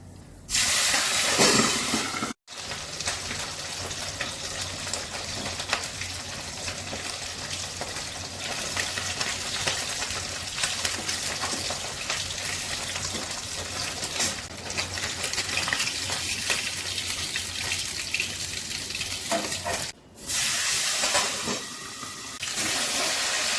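Pabda fish frying in hot oil, a loud continuous broadband hiss and spatter lasting over twenty seconds, nearly unbroken apart from two brief dropouts.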